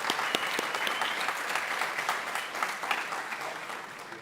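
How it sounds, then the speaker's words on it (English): Steady applause from a crowd at a community college signing day ceremony, dense clapping held evenly throughout. "Give her applause."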